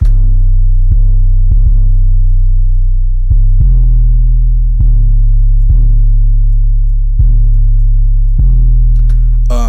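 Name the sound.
808 bass notes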